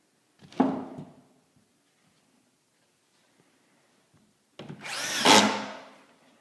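A power drill drives screws into a drywall sheet: a short whirring burst, a pause of near silence, then a longer, louder run that ends with a bite.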